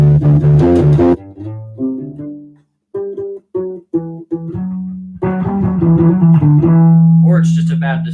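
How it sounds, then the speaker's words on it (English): U-Bass played through an effect adding a lower octave and distortion: a series of deep, buzzy plucked notes, some held and some short with gaps between, ending in a long sustained tone. "it has a lower octave and distortion."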